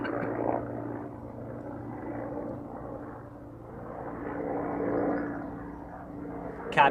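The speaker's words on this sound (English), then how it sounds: "There's a helicopter over there," A helicopter passes at a distance above a beekeeping site, a low steady rotor drone that swells and fades gently, moderately loud, with no talking.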